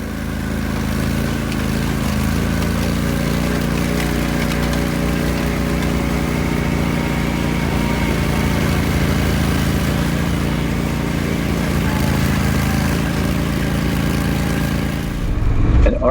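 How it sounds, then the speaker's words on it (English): The engine of an Argo skid steer vehicle runs continuously, a loud, steady mid-pitched drone with light rattling that holds at an even level before dropping off at the very end. "An Argo is a skid steer machine."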